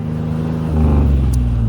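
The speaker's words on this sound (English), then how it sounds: "That's because I'm revving it." A vehicle stuck in snow while snow wheeling, its engine revving into a loud, steady low rumble that swells and holds close by, no talk.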